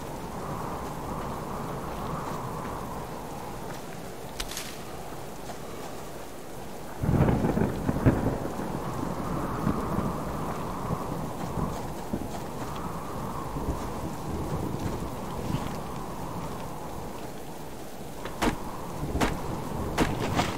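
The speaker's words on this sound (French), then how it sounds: "Il y a une tempête dans mon ordinateur." In the survival game Subsistence, a thunderstorm brings steady heavy rain and a loud thunder crack partway through, followed by further rumbling.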